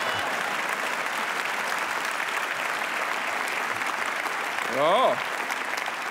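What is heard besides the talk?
audience applause at Social Democrat speech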